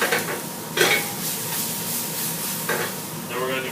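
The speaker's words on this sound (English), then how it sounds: "Make sure you reduce that brandy to sec though." Brandy bubbling and sizzling as it reduces in a pan after deglazing, a steady close frying hiss with a few brief stirring scrapes and clinks against the pan.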